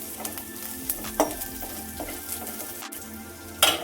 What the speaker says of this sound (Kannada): ಫ್ರೈ ಆಗ್ತಾ ಇದೆ ನೋಡಿ. ಇದು ಧನಿಯಾ ಕಾಳು ಸ್ವಲ್ಪ ಕಲರ್ ಚೇಂಜ್ ಆಗಬೇಕು.